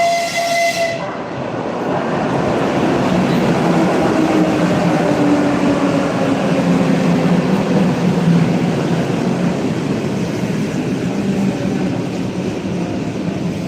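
A Moscow metro train rolls past close by on a line toward Minskaya, a loud sustained rumble with a rising and falling whine of motors and wheels on track.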